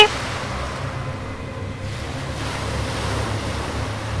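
Sea water waves, a steady, continuous wash of surf with a windy hiss, fairly even in loudness and uninterrupted by voices.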